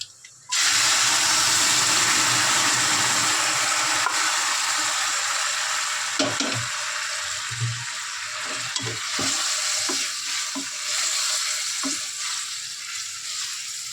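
Elephant apple dropped into a hot pan where cashews and raisins were just fried for a chutney sets off a loud, close sizzle, which eases slightly as a spoon stirs and scrapes with scattered knocks.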